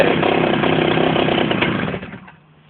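A GoPed scooter's 71cc two-stroke engine fires up and runs indoors in a workshop, a loud, raspy buzzing drone that holds steady for about two seconds before cutting out and fading.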